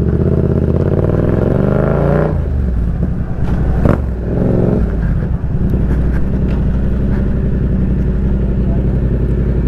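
A Yamaha MT-07 motorcycle engine runs loud and close, its steady droning note rising as it revs, then settling into a rough, throbbing idle with some clatter and wind buffeting over the microphone.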